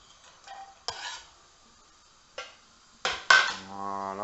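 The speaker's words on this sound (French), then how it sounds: "On met les oignons." Chopped onions drop into hot oil in a pan with a few clatters and stirs, then a steady close sizzle of frying builds and holds.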